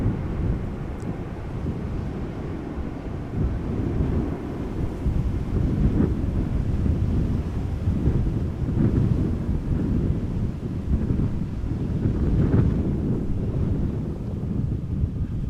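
Strong wind gusting across an open microphone at Amsterdam Schiphol Airport, a steady low roaring buffet with swelling gusts throughout and no voices.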